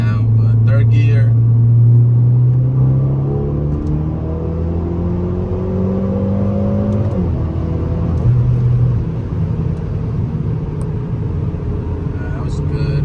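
A Hyundai Elantra N accelerating hard in third gear on a wet road, its engine note climbing steadily in pitch and loudness before a shift, then pulling on with road rumble; a voice speaks briefly near the start.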